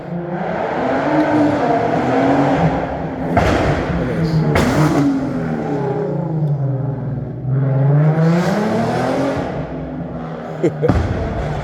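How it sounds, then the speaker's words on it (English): A loud car engine revs and surges repeatedly, rising and falling in pitch over about twelve seconds, with a few sharp thumps mixed into the roar. "they will send vehicles making that sort of loud noise"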